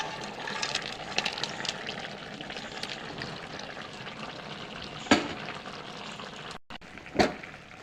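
Lentil dumplings (bori) drop into a simmering Bengali fish curry with tender drumsticks after a splash of water, giving a continuous close sizzle and bubbling, with two sharp clatters near the end.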